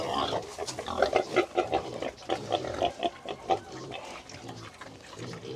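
A fat male breeding pig in a mating pen grunts in a rapid series of close, loud, throaty grunts, with splashing water in the background.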